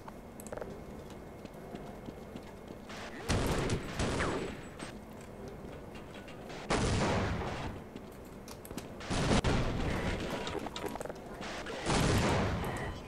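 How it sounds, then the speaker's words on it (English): Explosions and blasts in Half-Life Black Mesa, four loud separate bursts spaced a few seconds apart, each one a broad noisy boom that fades quickly. "Dude, my own grenade just killed me."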